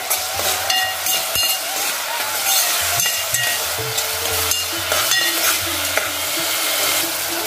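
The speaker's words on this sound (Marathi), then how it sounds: "आता आपण त्यात कांदा घालूया आणि कांदा आपल्याला गुलाबी रंगावर व्यवस्थित परतून घ्यायचा आहे।" Chopped onion sautés in hot oil with a continuous sizzle, broken by frequent scraping and clattering strokes of a spatula against the pan.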